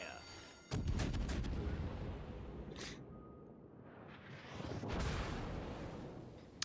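Heavy naval gunfire from the Tier 6 premium cruiser Perth in a warship battle game: a loud booming salvo that rumbles and decays, with further blasts swelling later, all close and dominant.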